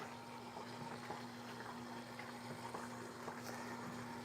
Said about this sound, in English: So I've just got some warm water here. I'm going to pour that right in there